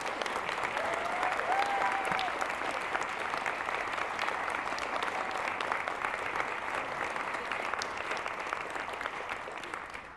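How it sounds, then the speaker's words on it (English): Applause at a school board meeting, an even, moderately distant crowd clapping that runs steadily for about ten seconds and fades slightly at the end. "Let's give our renewed candidates a round of applause."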